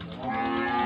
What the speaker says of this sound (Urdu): یہ گاں بہت بڑی گاں ہے